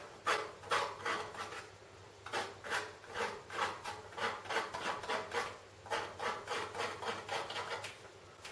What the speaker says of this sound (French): je gratte avec le dos du couteau pour faire monter les herbes